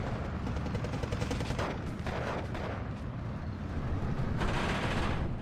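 Dense battle noise fills a Steel Division 2 multiplayer match, with MG-42 machine gun bursts and heavy booming fire rolling continuously at a steady, loud level.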